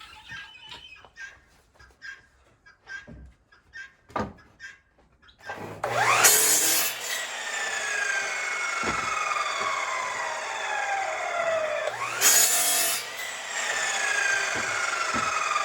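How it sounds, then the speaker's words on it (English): A power saw cuts wood strips for building raised garden beds: scattered knocks and handling noises come first, then a long, loud whining cut with a second burst near the end, recorded close up and with no talk. "first I gotta get some more strips cut up."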